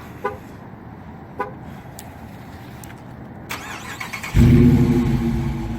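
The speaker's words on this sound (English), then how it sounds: "And then listen to this. Remote start." A 2019 Dodge Challenger R/T with a Hemi engine is started by remote: a few faint clicks, then the engine fires up loudly near the end and settles into a deep, rumbling idle.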